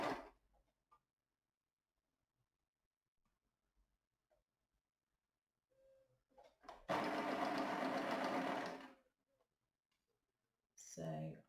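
Sewing machine stitching bias binding onto a face mask, one loud steady mechanical whirr lasting about two seconds after a stretch of near silence, with brief talk at the start and end.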